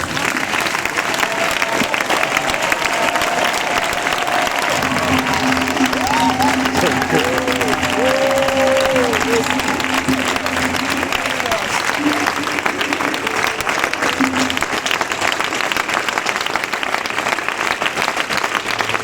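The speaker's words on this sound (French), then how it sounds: "Je veux que tu applaudisses maintenant pour Jésus-Christ de Nazareth." A crowd at the opening of a Christian festival applauds steadily and loudly for the whole stretch, while a voice and some held musical tones sound faintly underneath.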